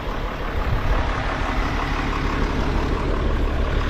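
A tractor engine runs steadily with its gearbox in gear, a dense, loud, even mechanical rumble with no breaks.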